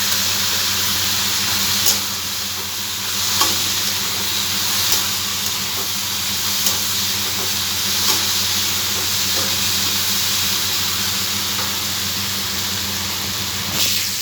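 Potatoes with salt and turmeric sautéing in a pan, giving a steady, even sizzle and hiss throughout with occasional soft pops and clinks, no talking.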